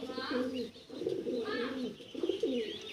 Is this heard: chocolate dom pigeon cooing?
yes